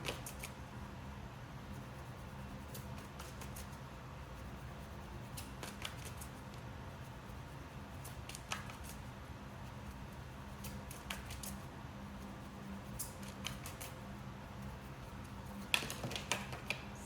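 Tarot cards being shuffled by hand: soft, quiet riffling and flicking in irregular short bursts, close and faint, with no speech.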